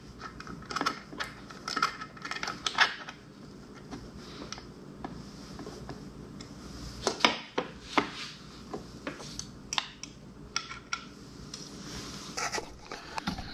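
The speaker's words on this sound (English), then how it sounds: "just tighten down the screws from the backside using the Allen, the supplied Allen wrench" An Allen wrench tightens the screws on a DeWALT DWE7491RS table saw mitre gauge. Scattered small, sharp metallic clicks and taps come in irregular bursts, some louder than others, over a quiet background.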